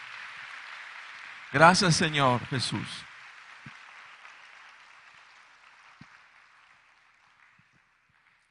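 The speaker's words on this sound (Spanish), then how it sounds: "¿Por qué no le damos un aplauso a nuestro Dios en" A church congregation applauds in a steady wash of clapping that slowly fades away, while a voice briefly speaks over it near the start.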